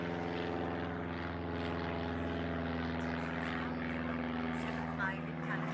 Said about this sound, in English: I can hear a plane, I can't see it.